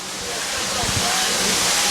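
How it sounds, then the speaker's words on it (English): Wet-dry vacuum sucking up kitchen grease and water in a restaurant, a steady loud hissing rush that builds slightly and runs continuously throughout. "Trevor, where do you put that stuff you're sucking up right now?"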